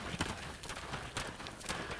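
A horse moves about during a training session, its hooves clopping in an uneven series of soft thuds against steady background noise.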